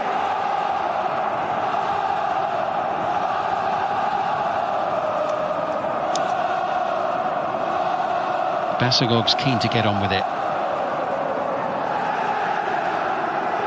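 Home crowd at a Romanian Liga 1 football match between Hermannstadt and UTA Arad, a steady stadium roar running throughout beneath a commentator talking, with a brief louder stir near the end.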